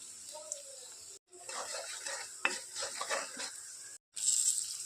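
Onions and garlic sizzle steadily in a hot pan, a soft crackling hiss interrupted by brief pauses, with light stirring scrapes close by.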